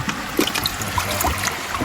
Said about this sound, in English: you just gently put water over the top of it